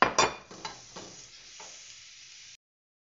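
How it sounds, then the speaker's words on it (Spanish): Chopped onion and garlic sauté in oil in a pot: a few clattering stirs over a steady, close sizzle that cuts off abruptly. "Voy a agregarle una cebolla picada y unos dos dientes de ajo finamente picado y los voy a sofreír un poquitito."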